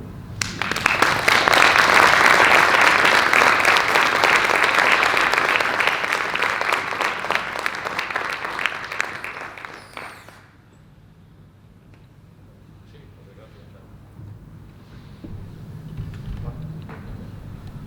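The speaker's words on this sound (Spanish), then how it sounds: "un fuerte aplauso" An audience at a research grant project presentation applauds loudly for about ten seconds, the clapping thinning and fading out, followed by a quiet room with faint murmurs.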